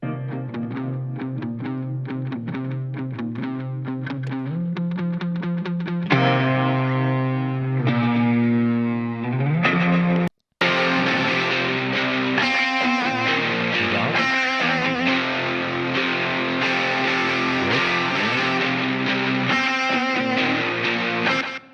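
Distorted electric guitar chords with a short slapback echo, playing continuously with a brief cut partway through.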